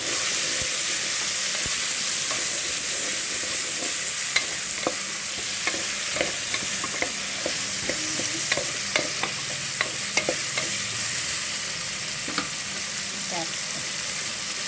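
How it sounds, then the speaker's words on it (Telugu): A cauliflower curry with carrot is stirred in a hot pan, with soft steady sizzling under frequent light scrapes and taps of a spatula against the metal. "కాలీఫ్లవర్ కూడా వేసేసాను. ఇంకొంచెం కలబెట్టుకొని దాన్ని"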